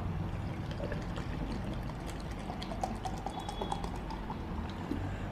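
A scoop of protein isolate powder poured into a plastic shaker, heard up close as a steady soft rustling hiss that lasts several seconds with no talking.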